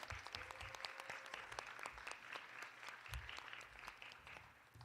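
A final round of applause for the winners of an awards ceremony fills the whole stretch. Many hands clap steadily at a moderate distance, continuous and even, with no talking on top.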